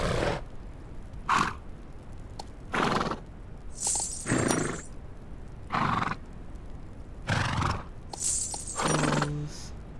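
Horses in the video game The Legend of Khiimori neigh and whinny in a string of separate, fairly loud calls. Hoof clip-clops come between the calls, and some calls end with a high, bright tail.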